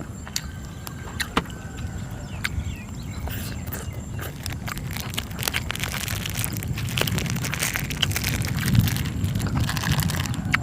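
Rain falling outdoors over open countryside under an overcast sky, a dense steady patter with scattered sharper drips and taps throughout, fairly close and continuous with no voices.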